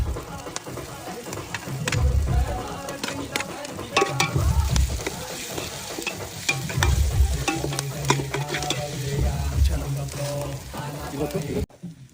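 Green chillies fry in hot oil for chicken curry while a spoon stirs them, giving a continuous loud sizzle broken by repeated scraping strokes around the pan.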